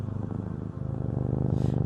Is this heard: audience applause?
no